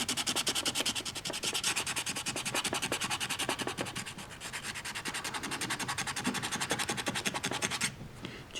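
Paint rubbed off a scratch-built model footbridge in quick, continuous back-and-forth strokes, a close, dry scrubbing that stops briefly near the end.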